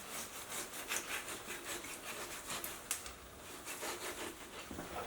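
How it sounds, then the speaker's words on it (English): Knife slicing through a rack of baby back ribs to separate individual ribs, a steady back-and-forth rhythmic cutting and scraping, close and moderately loud, with no talking. "just cut these into individual ribs"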